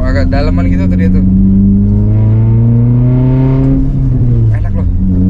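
A Daihatsu Terios engine revs up through a header exhaust with a deep, throaty note, rising in pitch then easing off, loud and close, with people talking over it.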